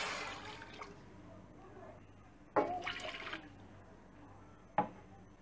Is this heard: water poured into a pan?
yes